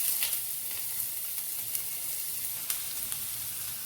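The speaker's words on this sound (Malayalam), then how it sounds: "ഒരു സവാള ചെറുതായിട്ട് അരിഞ്ഞത് നമുക്കിട്ടൊന്ന് വഴറ്റാം" Chopped onion sautéing in a tablespoon of coconut oil in a pan for tomato theeyal. It makes a steady, close sizzle with a few faint stirring scrapes and no talk.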